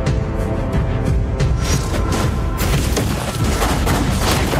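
A turret blows up in the Mobile Legends mobile game, producing a loud, dense rumbling blast with crackling debris that stays at full intensity for several seconds.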